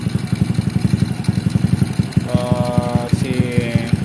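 Honda Revo motorcycle engine running close by with a rapid, steady putter, then revved so the pitch rises into a higher, smoother drone before easing back.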